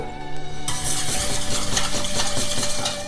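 Milk is whisked into crepe batter in a bowl, a continuous close scraping and swishing stir with rhythmic strokes over a steady background hum, no speech.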